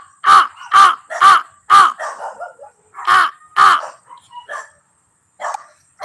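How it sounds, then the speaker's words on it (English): A crow caws repeatedly outdoors, a series of loud, harsh calls in an uneven rhythm, with softer trailing notes and occasional distant barks between them. "that crow lets me know when I need to know something"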